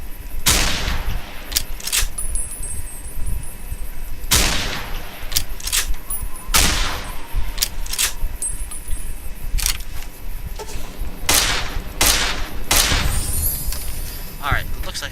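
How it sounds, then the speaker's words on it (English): Gunfire in Fallout New Vegas comes as a series of sharp, loud single shots spread unevenly over a stretch of play, some clustered close together, over a low game background hum. "I shot you."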